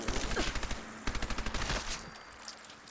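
Rapid automatic gunfire from a new gun in Fallout 4, two quick bursts of evenly spaced shots, loud and close, followed by a quieter tail of game ambience.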